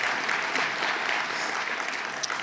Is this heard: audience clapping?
yes